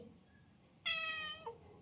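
A hungry cat that visits the house gives one clear, close meow of about half a second, rising then dropping at the end, with a quiet room around it.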